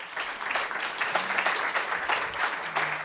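Steady applause from the audience at a women in tech hackathon finals as jury members are introduced, dense clapping filling the room for about three seconds with a few faint voices murmuring beneath.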